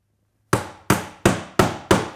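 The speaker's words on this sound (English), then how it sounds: "take the batten again and tack it down along those marks." A hammer tacks a wooden batten down on a work skiff build: five sharp, loud strikes at a steady rhythm, each ringing briefly and decaying, following a short silence.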